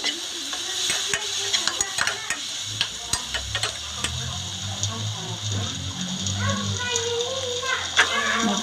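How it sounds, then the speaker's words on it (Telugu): Green chilli, ginger and garlic paste frying in a pan, a soft sizzle under repeated stirring clicks and scrapes, with some faint background voices. "పేస్ట్ అయితే వేసుకోవాలి. అది కూడా పచ్చి వాసన పోయేంత వరకు అయితే వేయించేసుకోవాలి"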